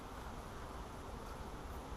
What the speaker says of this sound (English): That's a good sized swarm.